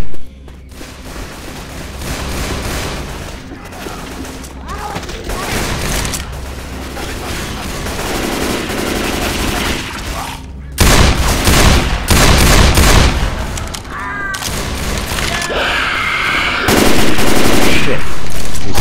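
Heavy, nonstop gunfire fills the Left 4 Dead 2 campaign The Passing on Expert Realism, with rapid automatic bursts that grow louder and denser partway through, and shouting players can be heard over it.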